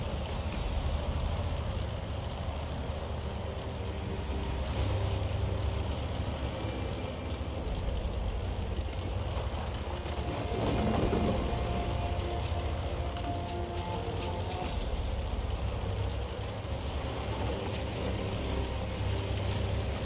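The engine of a T67 tank in a video game drones steadily while driving, a continuous low mechanical rumble with a faint rise in the middle and no talk over it.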